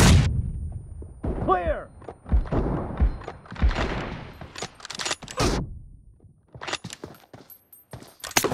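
M24 sniper rifle shots in a team deathmatch shooter game, several loud sharp bangs spaced apart with thuds and clatter between, and voices talking around them.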